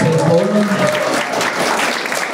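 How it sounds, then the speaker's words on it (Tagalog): An audience at an evening company event bursts into steady, dense applause, loud and continuous throughout with a faint murmur of voices underneath. "Jayling, palakpakan naman natin, Jayling."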